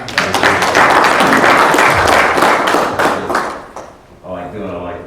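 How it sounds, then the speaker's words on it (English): A bodybuilding conference audience breaks into loud, close applause that swells and fades after a few seconds, as a voice begins talking near the end. "Round of applause for you."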